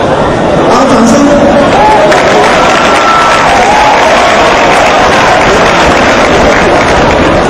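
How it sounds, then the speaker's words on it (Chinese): A large crowd applauds at a school graduation ceremony, dense loud clapping mixed with cheering and chatter filling the space continuously. "好，掌声。"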